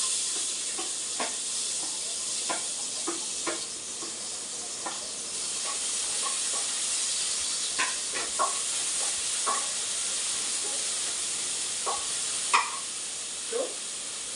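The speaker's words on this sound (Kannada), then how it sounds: "ಎಣ್ಣೆ ಚೆನ್ನಾಗಿ ಬಿಸಿ ಆಗಿದೆ. ಸೊ ಫಸ್ಟ್ಲಿ ನಾನು ಇದಕ್ಕೆ ಆನಿಯನ್ ಹಾಕ್ತೀನಿ" Onions sizzle steadily in hot oil in a pan, a continuous bright hiss punctuated by scattered pops and occasional stirring clicks, close and fairly even in loudness with no voices.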